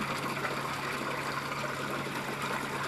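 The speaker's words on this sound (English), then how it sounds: "you're going to notice that the water is going to return to the tank" Water flowing back into a tank in an aquaponics lab after air pressure is released, a quiet steady rushing and trickling wash with a low mechanical hum beneath, continuous and fairly faint.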